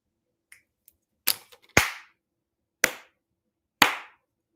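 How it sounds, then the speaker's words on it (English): A few slow, isolated hand claps, sharp and close in an otherwise quiet room, spaced about a second apart, sarcastic golf-style clapping with no talk. "Golf claps, bitch. Golf claps."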